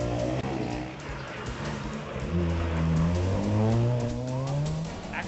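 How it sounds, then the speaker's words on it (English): A car skids during a stunt at a road safety rally in Chandigarh, its tires squealing and engine whining in rising and falling tones, loud and close for several seconds. "The dangerous skid."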